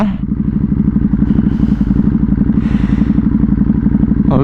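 A Ducati Hypermotard motorcycle engine idles or runs at steady low revs during a test ride, a loud, close, throbbing pulse that continues without a break.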